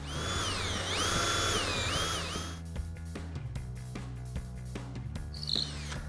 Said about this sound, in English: We're gonna drill 3 holes here, and I'm just gonna do them freehand.